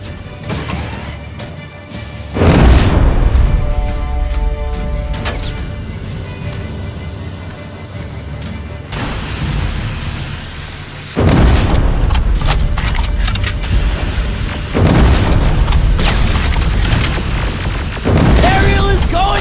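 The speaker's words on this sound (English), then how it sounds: "Rockets!" Rocket explosions in Terminator Resistance, played on PS4, land as several loud booming blasts at intervals, each with a long rumbling, crashing tail and mechanical clatter between them.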